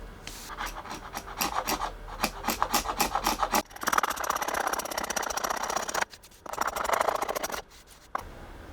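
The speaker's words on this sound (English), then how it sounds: "I placed each board over these anti-slip sheets and scraped all the glue squeeze out." Glue squeeze-out scraped off edge-glued wooden boards laid on anti-slip sheets, rapid rhythmic rasping strokes up close, then longer continuous scrapes broken by short pauses.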